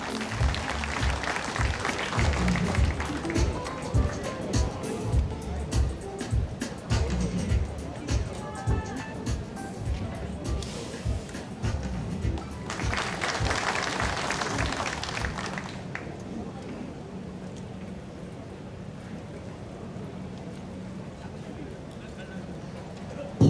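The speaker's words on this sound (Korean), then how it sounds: "여러분 뜨거운 박수로 환영해 주시기 바랍니다." An outdoor audience bursts into sustained, lively applause to welcome a Marine Corps war veteran of the Korean War Tongyeong landing, the clapping gradually fading out, with an announcer's voice heard over it at the start.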